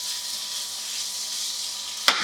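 Seasoned potatoes sizzle steadily in a hot pan, a bright continuous hiss that holds evenly, then ends with a brief sharp clatter near the close as they are tossed.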